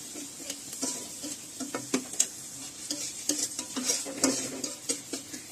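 Cashews and raisins fry in oil in a pan with a soft sizzle, broken by frequent sharp scrapes and taps of a spoon stirring close by.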